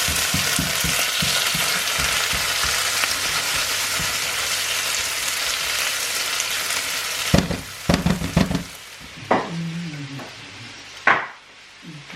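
Chopped onion sizzles steadily in a pan with tomato, a dense close frying hiss for several seconds, then a few sharp clanks of a utensil against the pan as the sizzle fades.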